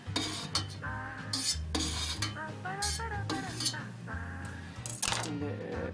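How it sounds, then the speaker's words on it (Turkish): A knife cuts through homemade strained cheese curd in a pot, giving repeated close scraping and clinking strokes in uneven bursts, with brief quiet gaps between cuts. "Şimdi peynirimizi bıçak yardımıyla kesiyoruz."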